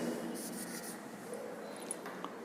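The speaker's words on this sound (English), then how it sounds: "now with the C dash as a center, draw arc" A pencil tip on a geometry compass scratches softly across paper while an arc is drawn, a faint continuous rubbing up close with no one talking.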